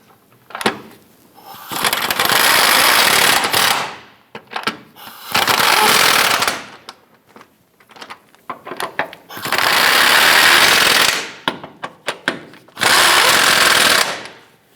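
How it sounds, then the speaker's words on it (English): A power tool tightens the rear subframe bracket bolts on a 2008-2013 Nissan Rogue, firing in four loud, sustained whirring bursts of about two seconds each, separated by quieter gaps with small clanks. "Tighten down our 4 bracket bolts."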